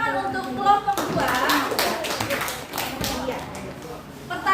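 A classroom applauds a student group: a voice speaks first, then a burst of clapping from many hands runs for about three seconds before tapering off.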